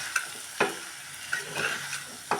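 A spoon scrapes and stirs a spiced cabbage mixture for cabbage pulao in a pan, with several distinct stirring knocks over a soft, steady sizzle.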